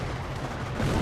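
An incoming howitzer shell in Company of Heroes, a World War II strategy game, heard amid a steady din of battlefield gunfire and rumble, with a slight swell toward the end.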